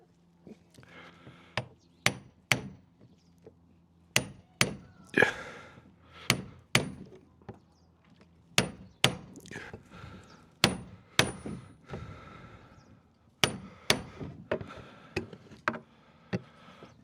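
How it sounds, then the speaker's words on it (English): Sharp hammer taps on a metal part of a Mini Cooper S engine ring out one or two at a time in irregular bursts, close by, with quiet gaps between strikes. "push down onto these with a couple of hits gently with a hammer"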